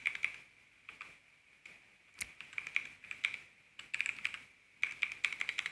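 Fingers type on a computer keyboard in quick, irregular bursts of light clicks with brief pauses between words, quiet and close, with no voices.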